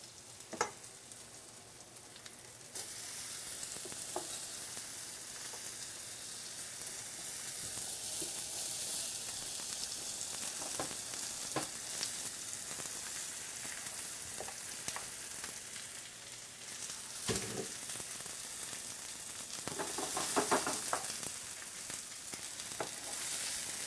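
Sliced yellow squash and zucchini sizzle and crackle steadily in a hot pan, with occasional stirring clatters and a louder burst of frying toward the end.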